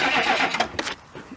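A truck engine cranks over and struggles to start on batteries that are running down, giving a loud, uneven churning burst that sputters and fades near the end.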